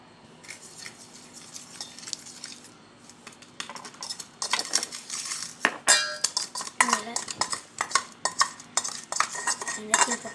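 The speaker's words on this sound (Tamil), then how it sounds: "எல்லாத்தையும் போட்டு நல்லா மிக்ஸ் பண்ணிக்கோங்க." A spoon scrapes and clinks against a bowl while turmeric and coffee powder are mixed into a face pack, beginning quietly and turning into quick, loud, repeated taps and clatters, and nobody speaks.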